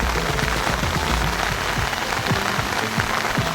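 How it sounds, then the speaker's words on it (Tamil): Light drizzle falls on a tea plantation in Vagamon, a steady close hiss of rain pattering on leaves that holds evenly throughout with no talking. "மழை வேறு இங்கே சாரல் மழை பெஞ்சிட்டே இருக்குது."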